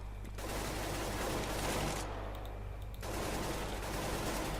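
Dense, rapid gunfire from the video game Counter-Strike: Global Offensive rattles almost without pause, with a brief dip in the middle before the firing resumes just as loud.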